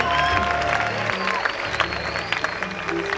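A crowd at a worship gathering claps steadily with some cheering, while a voice and music carry on over the applause throughout.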